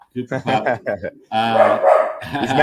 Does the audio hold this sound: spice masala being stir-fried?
no